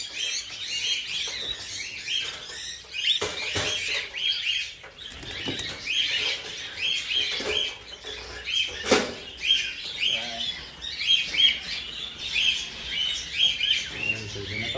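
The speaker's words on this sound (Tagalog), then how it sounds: "Meron pa sa taas mga kaibon." Small birds chirp and tweet overhead outdoors during a harvest, steady busy calls with a few wing flaps, moderately near, with no talk.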